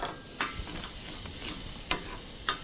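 Butter and cream are stirred into potatoes in a hot pan beside steak, giving a steady loud sizzle with soft scraping strokes and a few spoon knocks.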